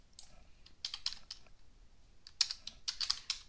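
A computer keyboard typed on to correct a payroll figure gives two short bursts of crisp, close clicking keystrokes separated by a brief pause, with no talking over them.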